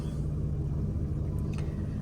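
A warmed-up car engine idling steadily, a low even rumble with a faint hum, continuous and fairly quiet, with no talking.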